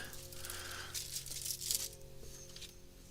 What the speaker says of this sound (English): this is the sound of me digging around